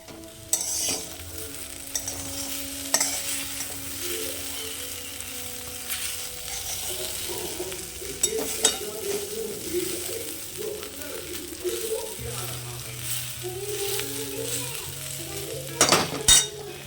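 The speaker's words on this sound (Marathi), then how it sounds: "तर आता शिजती बघा माझी भेंडी" Okra frying and stirred on a hot pan, a steady sizzle with spatula scrapes and light clinks of cookware running throughout, close and fairly quiet.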